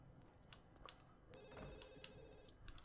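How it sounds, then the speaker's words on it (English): A telephone rings repeatedly inside The Sims 2 life-simulation game, with short bright electronic trills recurring at a steady rhythm over a faint game background and no talking. "Ignore the phone."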